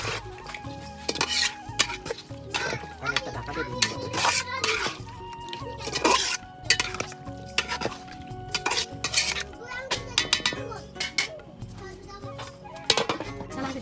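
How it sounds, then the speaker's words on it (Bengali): Spiced duck meat stirred in a cooking pot, with repeated scraping and clinking of a metal spoon against the pot over a faint sizzle, close and busy throughout with no clear talking. "এবার মশলাটা মাংসের সাথে ভালো মতো নেড়ে চেড়ে নিতে হবে এবং তারপরে ঢাকনা দিয়ে দিতে হবে।"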